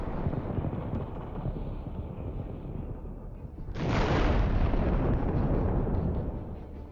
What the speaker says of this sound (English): The stopped APCs detonate.